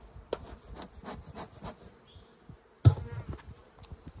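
Honey bees buzzing around a beehive in a beeyard, a faint steady high drone with quick bursts of nearby insect flight and a few sharp knocks, no talk.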